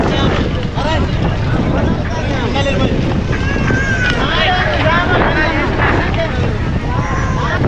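A boat engine drones steadily beneath wind and water noise aboard a passenger boat to Neduntheevu (Delft Island), Sri Lanka, with people talking over it throughout.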